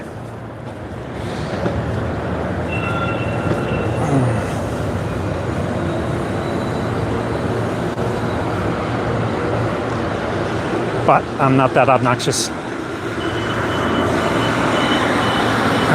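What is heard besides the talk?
train passing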